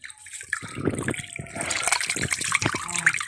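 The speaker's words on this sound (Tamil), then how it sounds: "வாடி அரிசி கழுவோம்." Raw rice being washed by hand in water in a village kitchen, close, irregular sloshing and splashing with swirling trickles.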